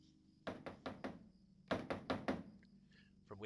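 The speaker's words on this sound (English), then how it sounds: "Knock again." Knocking on a door in Lord of the Rings Online: a steady run of four solid knocks, a pause, then five more close and loud, with a faint high sound trailing at the end.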